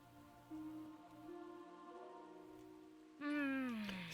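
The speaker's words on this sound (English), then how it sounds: "Still drizzling, huh?" Light drizzle in a Trails series video game, a soft, faint patter of rain running steadily beneath louder tonal game sounds.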